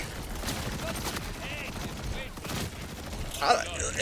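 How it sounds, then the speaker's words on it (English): Bursts of rapid gunfire from a shotgun in the video game Borderlands 4, dense overlapping shots with game effects and chatter running throughout, ending in a brighter metallic flourish. "This is a shotgun."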